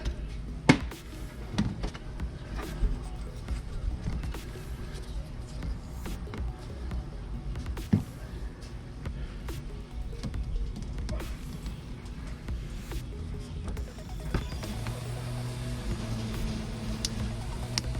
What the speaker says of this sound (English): my neighbor's cutting his grass, so that's that irritating sound you hear in the back